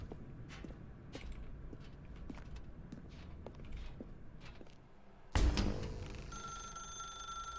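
A telephone rings inside the video game The Stanley Parable, a bright repeated ring arriving abruptly after a stretch of soft footsteps and room ambience.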